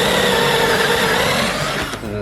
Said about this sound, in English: This is a special drill bit that lets you put a pocket screw in